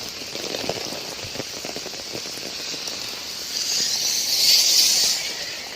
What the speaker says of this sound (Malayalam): നല്ല മഴയാണ് ഇത്.